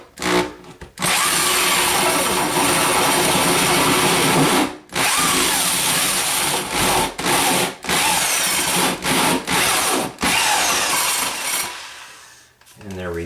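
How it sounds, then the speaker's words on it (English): A power drill runs long and loud, grinding through a wall for a clothes dryer vent, then cuts in and out in short bursts before stopping near the end. "then I'll finish drilling on the other side."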